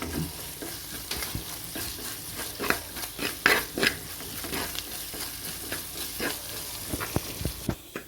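Dry spice powder scraped and stirred as it roasts in a pan, with repeated utensil scrapes and soft sizzling; no voices.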